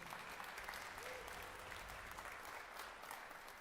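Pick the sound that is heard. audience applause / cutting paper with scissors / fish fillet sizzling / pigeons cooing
audience applause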